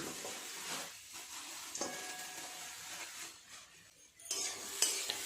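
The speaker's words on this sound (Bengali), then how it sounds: "নেড়ে চেড়ে খুব ভালোভাবে নারকেলের পাকটাকে বানিয়ে নেব" Grated coconut and jaggery filling is stirred in a pan with a spatula, soft repeated scraping over a faint sizzle, close and quiet with no voices.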